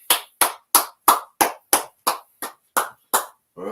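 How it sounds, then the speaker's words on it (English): Ten loud, evenly timed claps ring out close by in a steady rhythm from a gathered congregation, each sharp and echoing briefly before the next, with no voices. "All right, let's clap it up."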